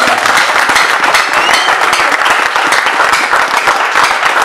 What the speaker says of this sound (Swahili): Upatie Bwana makofi.